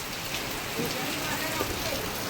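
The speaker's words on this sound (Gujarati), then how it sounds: "વરસાદ પણ જો આપવા માંડ્યો" Steady rain falls in Siddhpur, a dense even hiss of drops on surfaces throughout, with faint voices underneath.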